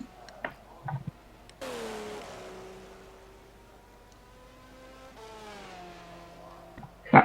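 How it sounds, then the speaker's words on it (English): A Ferrari race car engine in the rFactor 2 racing game sweeps past with a rising then falling harmonic whine that fades and returns as the car passes, with brief knocks at the start and end. "Oh, that Ferrari sounds."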